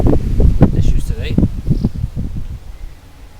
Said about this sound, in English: It's a shocking wind.